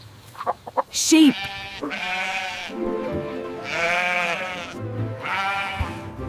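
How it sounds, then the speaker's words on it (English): A sheep bleats in three long, wavering calls, close and fairly loud, with a brief higher squeak and clicks at the start. "Sheep."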